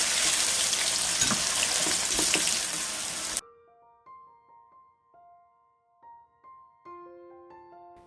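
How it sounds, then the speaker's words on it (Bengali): A cup of onions hits hot oil for egg korma, giving a loud, close sizzle and crackle for about three seconds. It then cuts off abruptly to a few soft melodic tones. "পেঁয়াজটা ভেজে নেব।"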